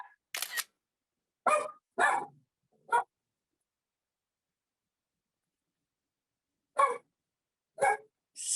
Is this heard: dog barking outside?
yes